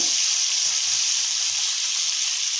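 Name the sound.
onion sautéing in butter on hot tawa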